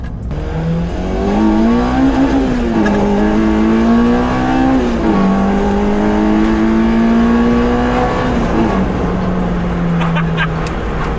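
A K-swapped Honda Civic coupe revs hard and climbs through the gears, loud and close, with a rising, throaty drone and brief shifts between pulls.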